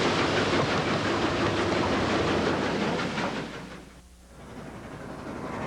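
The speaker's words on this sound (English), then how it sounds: "The world's most powerful operating steam locomotive paces stablemate number 611" The world's most powerful operating steam locomotive runs alongside stablemate number 611 at a railway historical society convention in Roanoke, a steady loud rumble of rolling wheels with rapid rhythmic chuffing and hiss that dips briefly near the end.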